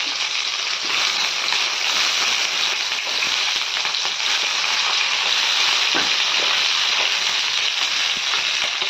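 Stuffed tomatoes fry in hot oil, making a loud, dense, unbroken sizzle with fine crackling and an occasional soft knock of a utensil.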